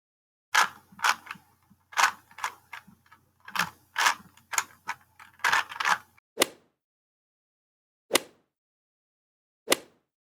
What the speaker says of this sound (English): You heard someone playing with a Rubik's Cube.